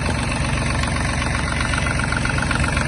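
A Yanmar RS-24 mini tractor's diesel engine idles steadily just before being shut off with the key, a loud, close, even knocking rumble with no speech over it.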